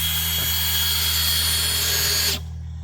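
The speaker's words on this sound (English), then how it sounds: "So we'll come back with you here in a second whenever we're shooting some bolts." A power drill whines steadily and loudly close by while shooting bolts into a farm bridge during repairs, then cuts off abruptly after about two seconds, leaving a low hum. No one speaks.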